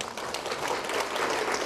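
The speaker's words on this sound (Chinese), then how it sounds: "来，我给这位朋友掌声鼓励" An audience at a lecture applauds a participant, a dense, steady patter of many hands clapping throughout.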